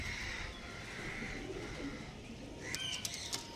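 Pigeons kept for tournament flying call and coo outdoors under steady background noise, with a few sharp bursts near the end that may be wing flaps or chirps.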